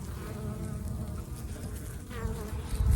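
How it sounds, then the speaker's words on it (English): Yellow jackets and honeybees feeding together on a plate outdoors, a continuous close buzzing drone of many wings with individual insects flitting nearer and away. "Look at all those yellow jackets right there. Eating with the honeybees and the honeybees eating."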